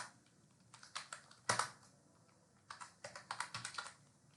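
A hostname is typed on a computer keyboard in quiet bursts of soft key clicks, with a sharper cluster of keystrokes followed by a brief pause and then a quick run of taps.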